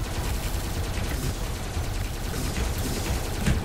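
Rapid gunfire from a weapon in the video game Tesla Force rattles on continuously in a dense, steady stream of shots with no pauses and no talk over it.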